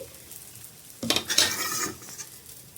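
Dosa batter hits a new dosa pan with a sudden sizzling hiss that swells and fades over a second or so, with a faint scrape of utensils against the pan.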